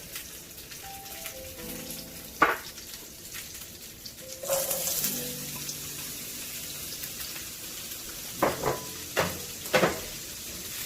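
Zucchini frying in oil in a pan on a small stovetop burner turned up high: a steady sizzle that swells midway, with a few sharp utensil clacks and stirring knocks near the end.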